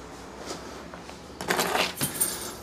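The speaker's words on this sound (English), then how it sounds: "that's going to take some keys" Jeep keys jangling close by inside a garage, a few soft early clinks followed by a busier burst of metallic rattling and shaking, quiet and without talk.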